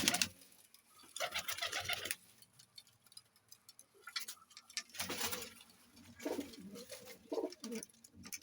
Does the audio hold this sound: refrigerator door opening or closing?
no